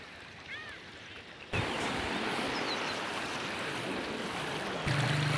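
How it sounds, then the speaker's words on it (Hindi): Flowing pond water rushes like a small waterfall at an outdoor spot, a constant broad roar that starts faint, then swells loud and close and stays steady with no talk. "अब साउंड जो है वो झरना वाला साउंड है।"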